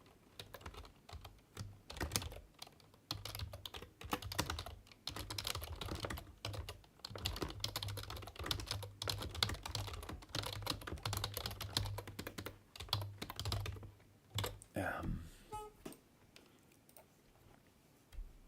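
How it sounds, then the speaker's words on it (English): Rapid, continuous keystrokes on a computer keyboard in a text editor, dense clicking taps at a close but quiet level, slowing to a few final presses and then near silence. "Press some keys and observe."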